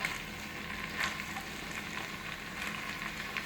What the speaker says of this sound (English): just stir it in with the spices and the potatoes and peas and carrots